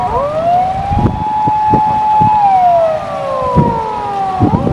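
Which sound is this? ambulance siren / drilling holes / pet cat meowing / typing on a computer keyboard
ambulance siren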